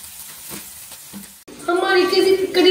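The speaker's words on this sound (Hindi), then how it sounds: "तवे को मीडियम फ्लेम पे रख लिया, अब हम शामी कबाब फ्राई करने लगे।" Shami kababs frying on a tawa over medium flame, a quiet start that jumps into a loud, bright, continuous sizzle, close up.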